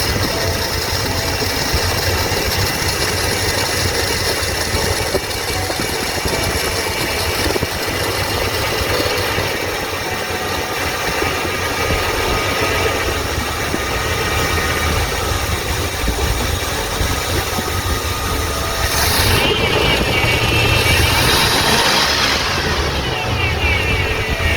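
A 1986 Ford F250 truck engine after an emissions delete runs at a steady, loud, rumbling idle, then revs up briefly toward the end. Nobody speaks.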